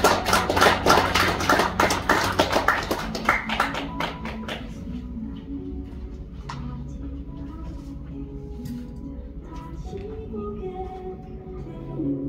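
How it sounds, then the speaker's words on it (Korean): An audience at a book launch in a hall claps loudly and fast for about four seconds, then the clapping thins to scattered claps and fades while quieter sounds and murmuring continue underneath. "박수 부탁드리겠습니다."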